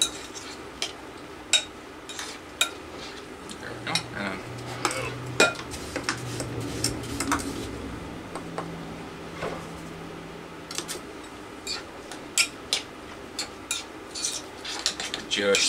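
Cranberry sauce made with sugar, orange juice and clementines being stirred in a pot, giving steady clinks and scrapes of a spoon against the pot at an irregular pace, close and moderately loud, with a faint low hum behind.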